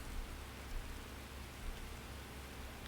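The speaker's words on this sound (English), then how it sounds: "And it's raining, of course." Steady, soft rain hisses evenly across a Skyrim landscape, a constant wash of drops with no voices and no distinct individual splashes standing out.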